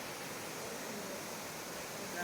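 A hidden waterfall in Kerala roars as a steady, dense broadband rush, constant and enveloping with no distinct events, heard close at moderate level.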